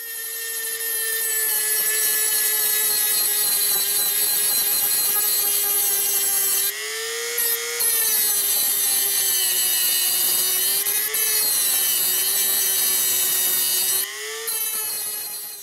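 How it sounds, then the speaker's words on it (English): A Dremel rotary tool grinds out welds on a car's upper strut mount, giving a steady, high-pitched whine that dips briefly in pitch as it bites under load, running continuously and close up with no talking. "here's me grinding it out of"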